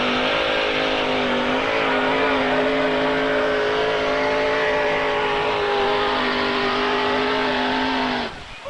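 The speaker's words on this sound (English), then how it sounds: "Mr. Randy Petro, 1923 Ford T-Bucket." A 1923 Ford T-Bucket roars at full throttle during a pulling competition, a loud, sustained engine drone holding steady for about eight seconds before cutting off abruptly.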